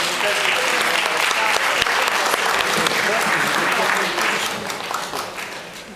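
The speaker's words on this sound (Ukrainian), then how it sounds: "Я думаю, що пан Олександр заслужив просто бурхливий оплески" An audience applauds steadily and loudly at a celebratory event, dense clapping sustained throughout before tapering slightly at the end.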